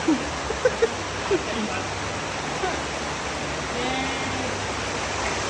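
Broad steady rush of flowing water near a waterfall in Sagada, a continuous wash filling the scene, with a few brief voices of people nearby.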